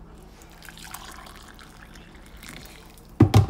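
Hot water from a freshly boiled kettle is poured into a mug of golden veg stock, a brief splashing burst at the very end after quiet kitchen background.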